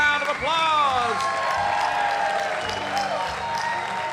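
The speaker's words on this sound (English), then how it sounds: "Give yourselves a big round of applause." Audience applause and cheering in a barn during a live music show, a steady wash of clapping with a few whoops rising above it, lasting several seconds at a fairly loud level.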